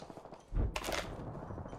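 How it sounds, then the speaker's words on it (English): Gunfire in Apex Legends breaks out mid-way as a loud burst of shots with a booming low thump, followed by a sustained rattle of continued shooting. "Hear all that shooting?"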